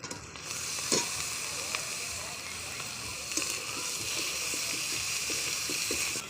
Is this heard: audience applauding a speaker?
no